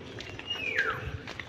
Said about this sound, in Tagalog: Ano ba yung huni ng ibon dito?